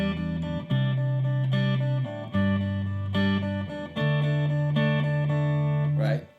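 A guitar plays the chorus chords of a song at full speed in a lilting three-beat strum, with chords changing every second or so, close and clear with no voices over it.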